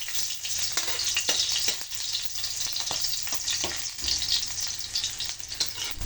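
Hot cooking oil sizzles steadily in a wok while canton guisado with chicken liver and crabsticks is prepared. The close, continuous hiss carries scattered clinks and scrapes of stirring, with no talk.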